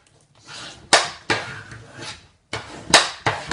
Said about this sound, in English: And you need to burnish all your fold marks really well